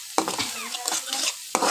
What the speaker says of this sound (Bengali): এখানে পেঁয়াজ ভেজে এটার মধ্যে দিয়ে দেওয়া হয়েছে আদা